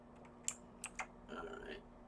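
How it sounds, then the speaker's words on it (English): Clacky computer keyboard, a few sharp isolated key clicks followed by a softer cluster of presses, quiet and close. "he's got a clacky keyboard too"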